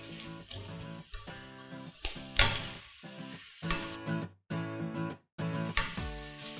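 Cabbage with egg and shrimp stir-fries in a hot pan, giving a loud, close, continuous sizzle broken by scraping stirs and brief pauses, with no talking.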